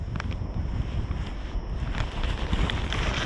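Wind blows steadily across a kayak on open water during fishing for mandarin fish, a continuous close rush of wind noise on the microphone with faint water wash and a few light knocks, no voices.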